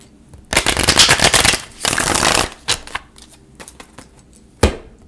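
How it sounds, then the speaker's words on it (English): A deck of tarot cards riffled and shuffled in several quick bursts, close by, with short pauses between and a final sharp snap. "Okay, last shuffle."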